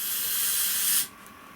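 Spray foam sealant hisses steadily from a can onto rivets inside a tiny house, a close, continuous spray that cuts off abruptly after about a second.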